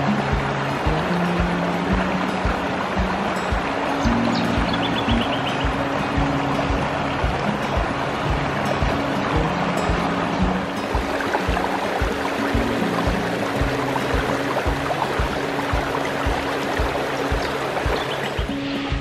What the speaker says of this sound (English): I thought I'd take a drive up to the hills to see whether the water was still running on Lesmurdie Falls.